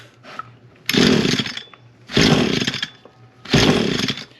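An Echo PAS-225 weed eater with a failing coil fires up in three loud bursts, each engine run roaring for about a second before dying back to a quiet gap, close to the microphone.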